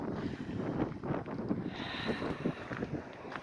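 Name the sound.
wind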